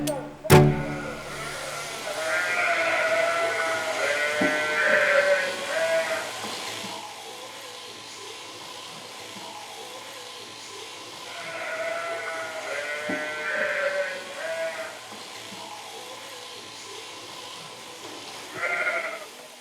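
Sheep on a farm during shearing bleat repeatedly in clear, wavering calls that come in several drawn-out bursts, fairly close, with a sharp knock at the start and low background noise.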